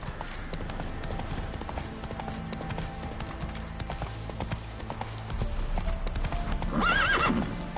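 Roach the horse galloping in The Witcher 3: Blood and Wine, with steady rhythmic hoofbeats close by and a loud whinny near the end.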